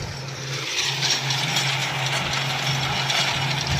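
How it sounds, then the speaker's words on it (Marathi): A Kubota MU5502 tractor runs steadily with a 4.5-foot Garud rotavator at 750 PTO, a continuous low engine drone with a rough mechanical hum heard close and fairly loud. "हे फक्त ट्रॅक्टर कुबोटालाच येतं 750 PTO आणि खूप छान काम करतो"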